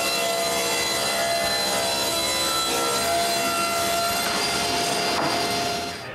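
A saw cuts steadily through a wood board for a bathroom towel cabinet. The loud, sustained whine of the blade runs unbroken for several seconds before easing slightly at the end.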